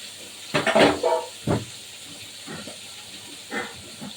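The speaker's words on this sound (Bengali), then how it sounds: "ভাত ফুটছে" Rice boils in a pot, giving off a few loud hissing, bubbling bursts of steam in the first half, then softer, fainter puffs.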